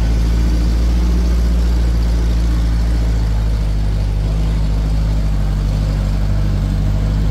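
A 4x4 off-road vehicle's engine runs loud and steady at close range in Bulacan, a deep continuous low rumble with no talk over it.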